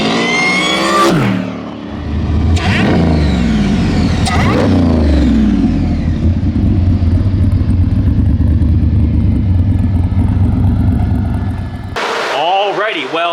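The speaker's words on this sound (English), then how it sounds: "The supercharger whine from when you're in front of it." Loud engine of a junkyard Volvo with a supercharged LS V8 swap, revving hard through several rising pulls and shifts, then holding a steady drone heard from inside the car, ending in another sharp rev.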